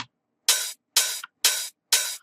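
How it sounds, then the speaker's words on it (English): Four crisp, bright hi-hat hits spaced evenly about half a second apart, each a layered burst with a short shimmering decay, heard alone. "So layer of hats is basically what we're saying."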